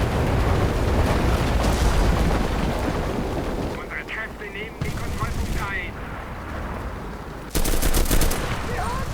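Machine gun bursts in the World War II shooter Enlisted, loud and dense, fading to sparser shots in the middle before heavy firing resumes, with game battle noise and a voice talking over it.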